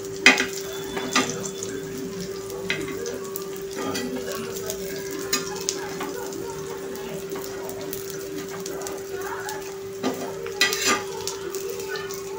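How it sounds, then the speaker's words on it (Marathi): Aloo vadi, crispy rolls of colocasia leaves coated in green masala, deep-frying in hot oil with a steady, close sizzle, a faint continuous hum beneath it and occasional light utensil clinks and taps. "अशा प्रकारे मी सगळ्या वड्या तळून घेते"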